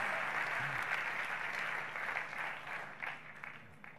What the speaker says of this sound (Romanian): Clapping right now.